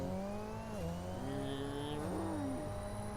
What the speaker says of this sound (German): Wieder ein cooles Auto.